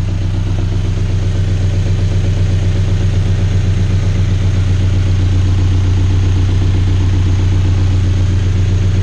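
A car engine fitted with a Greddy Revolution RS exhaust kit runs steadily, a loud, close, deep droning exhaust note at a constant pace with no talking.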